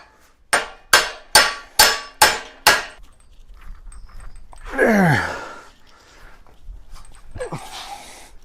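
A hammer strikes a stuck pipe fitting six times in an even rhythm, each hit sharp and ringing. A dog whimpers and yelps afterward.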